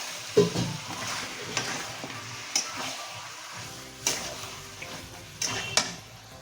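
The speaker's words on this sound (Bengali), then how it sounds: "এবার আবারও এটাকে কষতে হবে আবারও সারাশি দিয়ে ভালো করে ধরে নিন আর ধরে নিয়ে আবারও এটাকে ভালো করে কষাতে হবে" Chicken for kaliya is stir-fried with onion paste and green chillies in a pan held steady with tongs. Rhythmic scraping strokes recur every second or so over a low sizzle, close up and with no speech.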